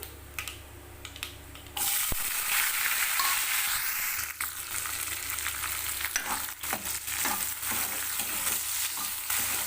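Onions with curry leaves and dried red chillies sizzle and crackle steadily in hot oil, with occasional stirring scrapes, close and moderately loud with no talking.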